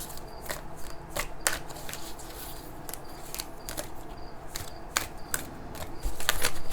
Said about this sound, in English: I'll let you think of a question while I shuffle.